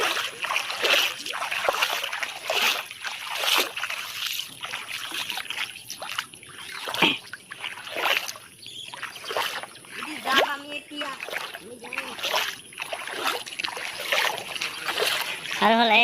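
A boat moves along a rising river near a village, and water splashes and sloshes against it in an irregular rhythm while people talk throughout.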